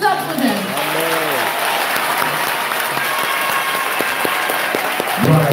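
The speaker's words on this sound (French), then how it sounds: "Let us clap for them." Audience at a church conference applauding, a sustained burst of clapping from a crowd filling the room, preceded and followed briefly by a voice speaking over it.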